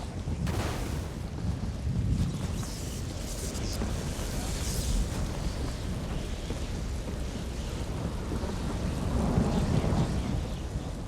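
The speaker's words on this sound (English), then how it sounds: "You get the lightning! Now you get the lightning!" Magic lightning and thunder cast in the Elder Scrolls Online video game: a sharp crackling strike, then a continuous heavy, roaring rumble that keeps going loudly for about ten seconds.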